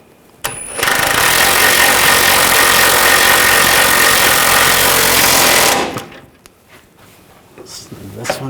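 Front lower control arm bolts are tightened on a GMC Sierra 1500 with a loud, continuous buzzing power-tool rattle lasting about five seconds. It starts after a sharp click and stops abruptly, followed by faint clatter.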